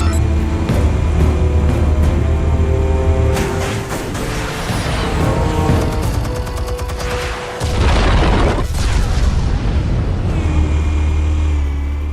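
Explosives detonate in Batman: The Telltale Series, a heavy sustained rumble with booming bursts and debris crackle, loud and dense across the whole stretch over low engine-like drone.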